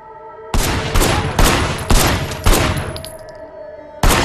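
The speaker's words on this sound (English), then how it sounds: "Officer Shen, take up a firing position." Gunshots at a firing test in the video game Sleeping Dogs: about seven loud, sharp, close single reports spaced roughly half a second apart, with a short pause before the last shot, alone without talk.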